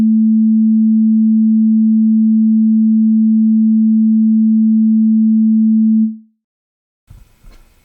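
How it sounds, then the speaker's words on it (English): A pure 220 hertz sine wave tone holds steady and loud for about six seconds, then cuts out, followed by a brief faint noise. "So that's a sine wave tone at 220 hertz."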